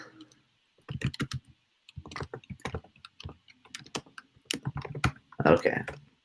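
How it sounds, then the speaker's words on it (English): Fingers tap on a computer keyboard in short, irregular bursts of clicks separated by brief pauses, close and fairly crisp, with a faint murmur of a voice mixed in. "I can't type today."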